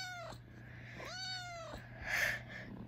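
Several kittens meowing, high thin cries of rising and falling pitch in quick succession, close by and fairly quiet over a low steady room hum.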